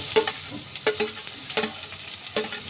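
Carrot frying in hot oil in a home kitchen pan, with a steady sizzle broken by periodic scraping stirs of a spoon roughly every three-quarters of a second, close and alone without talk.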